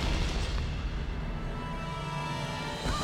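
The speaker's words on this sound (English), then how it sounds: "not only does it just showcase these beautiful explosions" Explosions in the video game Tomb Raider Definitive Edition produce a heavy, continuous low rumble of booms that stays loud and dense from start to finish.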